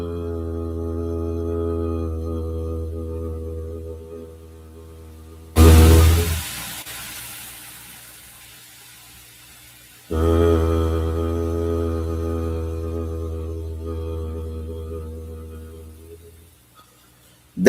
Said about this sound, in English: That sound of you listening to your own humming